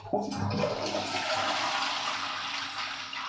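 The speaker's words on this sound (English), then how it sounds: "I do like how modern the toilet is. There's a massive flush." A modern hotel toilet lets out a powerful, loud flush: a sudden rush of water that roars steadily for several seconds, close up and alone.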